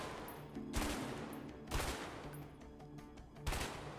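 Gunfire in the video game A Way Out breaks out in four separate loud bursts at roughly one-second intervals, each a sharp crack with a short tail, over a low ambient game background.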